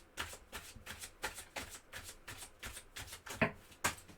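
Tarot cards are shuffled up close in quick riffling bursts, a dozen or so in a steady rhythm, with a few sharper snaps as cards are laid down.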